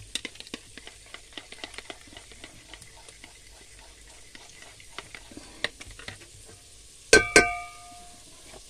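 Salmon head frying in a pan of hot oil: a soft, steady sizzle with light stirring taps, then a sudden louder burst of spitting crackle as the fish goes in near the end.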